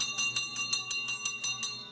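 A bar bell ringing to mark the end of a party, a rapid run of about ten bright metallic strikes at an even rhythm, clear and fairly close.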